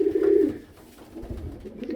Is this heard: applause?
no